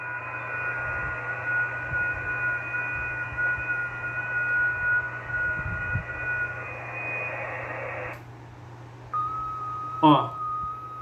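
Amateur radio receiver decoding FT8 digital mode at raised volume: steady stacked tones hold for about eight seconds over a low hum, then cut off, followed by a single tone and a brief warbling burst.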